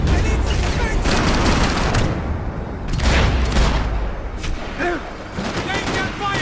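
Rapid bursts of gunfire fill a firefight in the video game Max Payne 3, loud and continuous with swells of shooting, voices shouting over the din.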